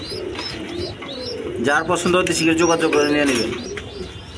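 A pair of large German seal pigeons coo over and over while someone talks loudly across the whole stretch, their burbling calls rising under his voice in the middle.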